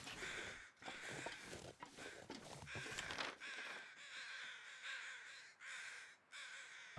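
Crows in the survival game The Long Dark caw again and again in raspy calls, some of them overlapping, over a low ambient bed. The calls sound fairly close and continue steadily.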